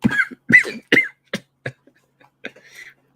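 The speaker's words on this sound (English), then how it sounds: "My cough is lingering a little bit" A series of sharp, dry coughs, about ten bursts spaced irregularly, close and fairly loud, with quiet pauses between them.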